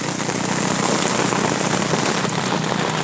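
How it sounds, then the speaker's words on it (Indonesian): Heavy rain pours down steadily during a windstorm, a loud continuous dense hiss drumming on surfaces near a leaking house roof, with a few sharper splashes but no voices. "Hujan kawan-kawan di sini guys."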